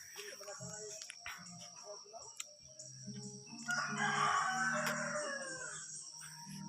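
Rooster crowing and hens clucking at a rural home on a cold morning, the crow swelling loud and near mid-clip while someone talks through much of it.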